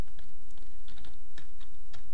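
Someone typing PHP code on a computer keyboard, a steady patter of close, crisp key clicks with uneven rhythm over a constant low background hiss.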